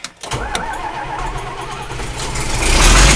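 A John Deere 4230 tractor cranks and fires on a cold start, the diesel catching after a brief whir and building into a loud, rough, rising idle up close.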